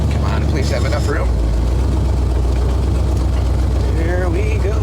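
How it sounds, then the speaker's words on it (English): A big truck engine idles steadily while warming up, giving a continuous low rumble with a person talking over parts of it. "I'm just gonna let this truck run for a little bit, get up to temp"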